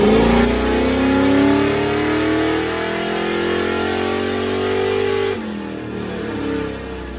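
A 1994 LT1 V8 car with only a cam upgrade revs hard on a dynamometer pull, a loud, rising engine roar climbing in pitch for about five seconds before dropping off and idling down.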